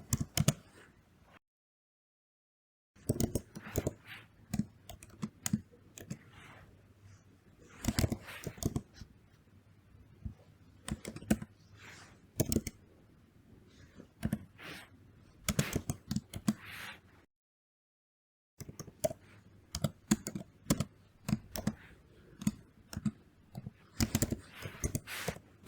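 Python code is typed on a computer keyboard as faint, quick key clicks in irregular bursts, with two short pauses of silence between runs.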